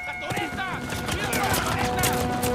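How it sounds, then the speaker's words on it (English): Explosions and gunfire rattle through a combat scene in the PS4 game Uncharted 4: A Thief's End, a dense, continuous mix of pops and blasts under a man's speech. "Explosions."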